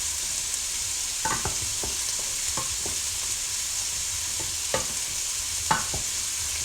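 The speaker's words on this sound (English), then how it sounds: "Keep that on simmer." Diced beef cooking in a pan over a low, constant sizzle, punctuated by sharp scrapes and clinks of stirring at irregular intervals.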